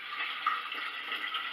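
Water and tea bag mixture for kombucha being poured, a steady close hissing stream of liquid with no talk over it.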